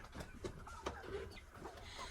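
Roosters clucking inside a coop, a scatter of short, soft clucks and bird calls against a faint farmyard background, somewhat distant and low in level, without talking.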